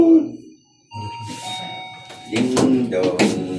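A doorbell chimes its two-tone ding-dong, followed by people chattering nearby over the ringing.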